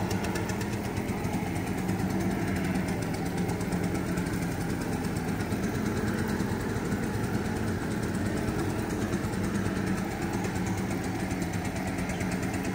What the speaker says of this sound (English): We're still using the blower